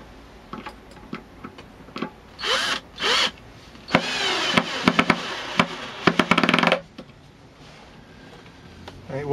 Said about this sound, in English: hadn't been using the drill and used up a lot of the battery